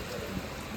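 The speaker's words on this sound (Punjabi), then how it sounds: "ਲਓ ਜੀ ਮੀਂਹ ਆ ਗਿਆ" Steady, soft hiss of rain falling, an even wash of patter with no voices.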